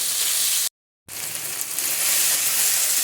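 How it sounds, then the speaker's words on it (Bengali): Tomato and ginger paste fries in a pan with a steady, loud sizzle, broken by a brief total silence before the hiss resumes and continues evenly. "এরপর টমেটো কুচি আর আদা বাটা দিয়ে এবারে কিছু নেড়ে দিতে হবে।"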